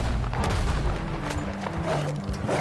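A dense, loud barrage of gunshots and booming blasts from Red Dead Redemption 2 fills the moment, sounding close, continuous and heavy, with no one speaking.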